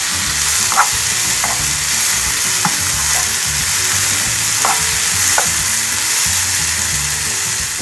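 Tomatoes and green chillies sauté in hot oil for a Kerala prawn and mushroom theeyal, giving a loud, steady sizzle. A spatula stirs them, adding a few sharp scraping clicks against the pan.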